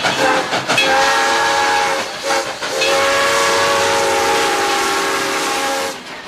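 Nathan 6 Chime steam locomotive whistle sounding a loud, sustained multi-note chord with steady harmonic tones, briefly broken near the start, then holding for several seconds amid steam hiss before cutting off.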